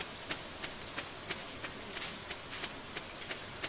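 Steady rain from a farming video game, an even hiss of falling water with faint regular ticking pulses, fairly quiet and continuous with no talking.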